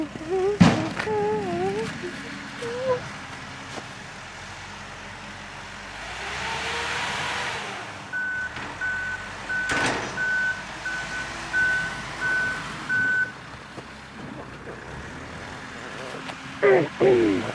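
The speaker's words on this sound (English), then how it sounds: "let's get back to the Bulldozer." A bulldozer clears snow from a street, its engine rumbling low while a steady series of evenly spaced reversing beeps sounds in the middle, with scattered clanks and a voice speaking at times.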